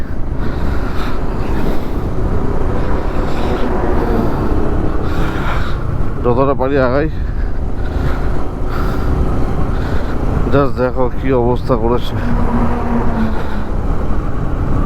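Traffic is jammed on the road to Kumbh Mela, with a constant rumble of engines and wind buffeting from a slowly moving vehicle, overlaid by a few short horn blasts and a voice talking.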